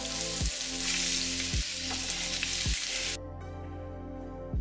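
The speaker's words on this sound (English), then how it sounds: "After that, put the onions into the pan." Onions hit a hot pan and fry with a dense, bright sizzle that runs for about three seconds before cutting off sharply, followed by a single soft knock near the end.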